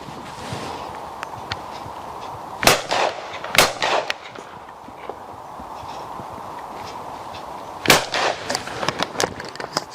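Three-barrel shotgun fired outdoors, sharp loud reports in two clusters of quick shots over a faint background, with no talking.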